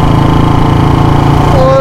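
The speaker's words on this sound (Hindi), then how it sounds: "आवाज के मजे लो आज बुलेट को" A Royal Enfield Bullet motorcycle engine idles close by, a loud, steady thumping beat with a deep rhythmic pulse, running alone without talk.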